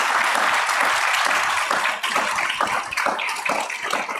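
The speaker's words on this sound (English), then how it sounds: "So I want to give a round of applause to all of our amazing panelists." Applause from a lecture audience for panelists at an annual health sciences MLK lecture, a thick wash of clapping that tapers into sparser, distinct claps as it fades.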